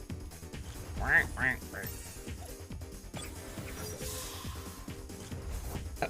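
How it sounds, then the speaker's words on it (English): Two short duck-like quacks from a creature in the video game Temtem come early, followed by continuous talking over game sounds. "It just makes a regular ass duck noise"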